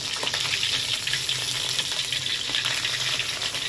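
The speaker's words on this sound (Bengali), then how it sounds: "হ্যাঁ তেল একটু ছেটায়, পাবদা মাছও তাই, একটু মাছ একটা ফাটে" Singri fish, a scaleless oily fish, frying in hot oil with a dense, steady sizzle and sharp crackles of oil spattering, loud and close throughout without any talk.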